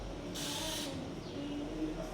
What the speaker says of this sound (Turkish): Avrupa standartında kaliteli balata spreyi kullanıyoruz.